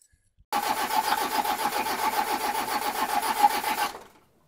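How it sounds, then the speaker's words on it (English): A Toyota Hilux LN106 engine cranks over with its injectors cracked open to bleed air, a rapid, even chugging of starter turns lasting about three and a half seconds, close and alone. "we've cracked the injectors to get all the air out, so we're just going to give it a quick turn over"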